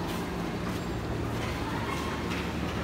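A train sits at platform 5 of a station on the Jakarta to Bandung line, giving off a steady, moderately loud rumble and hum of idling rail cars with station ambience.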